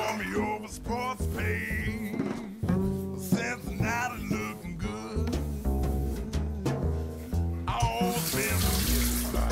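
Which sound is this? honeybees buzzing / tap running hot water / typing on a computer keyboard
tap running hot water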